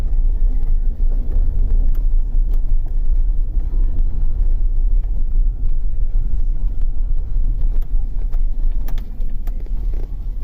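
A 2004 Chevrolet Suburban with the 6.0L engine and 4x4, showing ABS communication and service-4x4 faults, backs up across a parking lot: a steady, loud low engine rumble with some wind buffeting and no voices.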